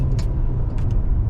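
A 2020 Mercedes GLA compact SUV accelerating, carrying a close, steady low engine rumble with faint higher hiss, and no talking.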